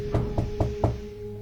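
Four evenly spaced knocks on a door sound at moderate volume over a steady low hum, then the hum continues alone.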